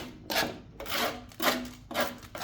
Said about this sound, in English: you just want to get that little surface rust off of there.